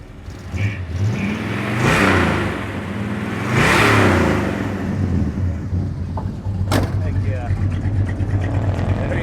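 A 1970 Plymouth Superbird tribute with a 440 Six Pack V8 idles with a deep rumble and is revved twice in quick throttle blips, then settles back to a loping idle, with voices faintly underneath.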